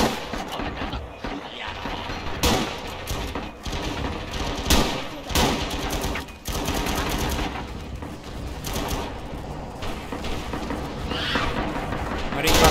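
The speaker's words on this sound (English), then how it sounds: "Mortar's coming." Mortar blasts and gunfire from the video game Rising Storm crack out as repeated sharp bursts over constant battle noise, with voices talking throughout.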